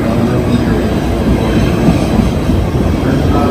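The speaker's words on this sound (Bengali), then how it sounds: "ট্রেনের জন্য এই 6 মিনিটে ট্রেন আসবে" Train pulling into a station platform on the line to 33rd Street, with stops including Grove Street and Newport, makes a loud, steady rumble with no break.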